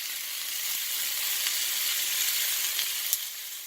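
Onion and other vegetables sizzle in a hot pan for a breakfast frittata, a steady close hiss with no talking and a few faint clicks.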